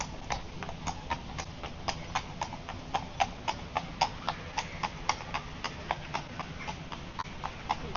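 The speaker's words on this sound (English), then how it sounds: "I can see some horse carriages" Horse carriages clip-clopping through the streets of Bruges, Belgium: a steady, evenly paced run of hoof clops on pavement, moderately close, over faint street ambience.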